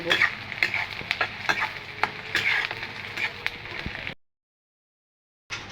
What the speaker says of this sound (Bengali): পেঁয়াজগুলো আমি ভালো করে ভেজে নিব